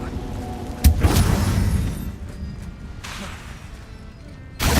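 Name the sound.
Confringo blast spell being cast in Hogwarts Legacy video game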